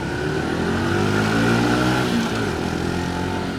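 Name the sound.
auto clutch motorcycle revving while riding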